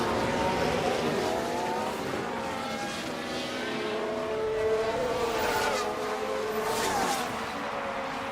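Formula 1 race cars in the F1 Manager 24 game drone continuously, engine whines rising and falling as cars pass at a distance, with no talk.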